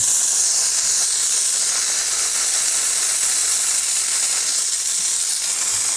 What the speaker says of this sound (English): it's still steam, so it's not completely dry, but it's pretty dry steam